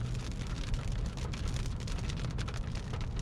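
Big raindrops pound down steadily during a storm, a dense, continuous patter close by with no voices over it.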